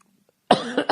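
A man coughs close to the microphone, three quick harsh coughs in a burst after a near-silent start.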